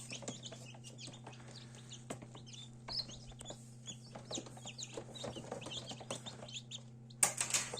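Newly hatched Bielefelder chicks chirp indoors in a faint, scattered series of high peeps over a steady low hum, with a louder burst of chirping near the end.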